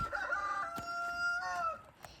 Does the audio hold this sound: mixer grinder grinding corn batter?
no